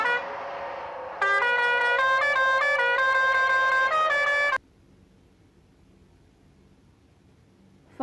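A fire brigade siren wails loudly for several seconds in a steady rising and falling electronic pattern, then cuts off abruptly into quiet background hiss.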